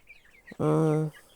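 A chicken gives a single loud, close drawn-out cluck while the flock eats ground grain, with faint chirps around it.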